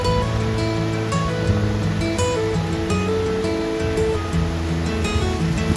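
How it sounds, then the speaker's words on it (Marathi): River water flowing over rocks beside a Mahadev temple in Nashik district makes a constant, loud rushing gurgle that runs without a break. "या मंदिराच्या बाजूने एक नदी वाहते."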